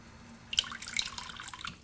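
Tap water runs briefly into a tablespoon while making challah bread at home, a soft close trickle that starts after a quiet moment and splashes faintly for about a second.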